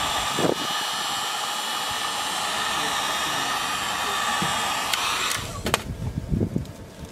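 A heat gun blows a steady, loud whoosh while warming tint film on the reverse light of an Ecoboost Mustang, ending in a few handling knocks and rustles.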